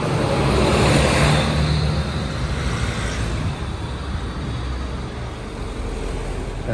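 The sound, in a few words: car passing by on a street in Medjugorje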